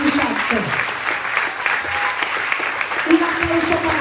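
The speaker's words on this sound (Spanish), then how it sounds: "Un aplauso para el Espíritu Santo." Church congregation clapping at an evangelical service, sustained crowd applause with a voice speaking over it and brief tonal sounds in the background.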